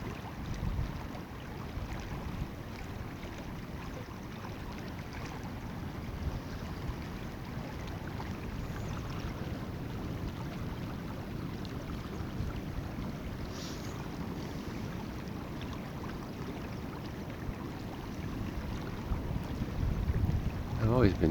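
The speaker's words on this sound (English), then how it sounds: "Can you hear the waves on the rocks?" Waves washing against rocks on the Portuguese coast at Foz do Lizandro, Ericeira, a continuous low surging roar mixed with wind buffeting the microphone, steady and fairly near.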